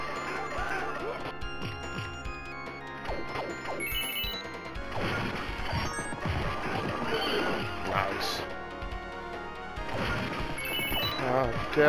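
Horse neighing in a video-game battle, a shrill whinny rising over dense clashing weapons, crashes and thumping hooves, with shouting voices mixed into the loud, busy fight.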